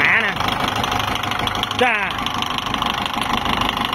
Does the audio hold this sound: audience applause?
no